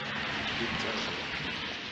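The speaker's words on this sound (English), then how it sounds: "we are so happy to see the rain" Rain falls on the streets of Cairo, Egypt, a dense, steady hiss of drops filling the short stretch without pause.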